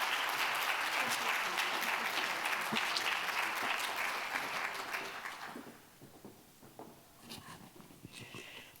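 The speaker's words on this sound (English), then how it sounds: "please welcome me and give a big round of applause to Dolores Delgado Bernal, please." A lecture hall audience claps steadily to welcome a distinguished lecture speaker, the full round of applause fading out after about five seconds into scattered claps and quiet room sounds.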